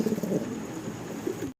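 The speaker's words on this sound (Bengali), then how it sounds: "অসাধারণ সুন্দর চমৎকার এক পেয়ার দেশি গোল্লা কবুতর দেখাচ্ছি, রেড কালারের" Desi golla pigeons, a red-coloured pair, cooing close by in low throaty bursts over a steady murmur, without talk.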